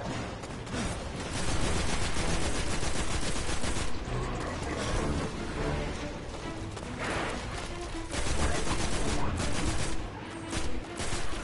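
Rapid bursts of gunfire from the video game Destiny, heavy and continuous, with overlapping volleys and crash-like impacts filling the clip at a steady, loud level.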